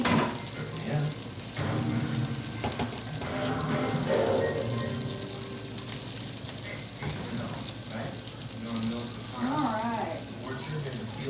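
Boiled potatoes poured into a kitchen strainer, a gushing, splashing rush of hot water draining into a sink, continuous and fairly close, with some cookware clatter mixed in.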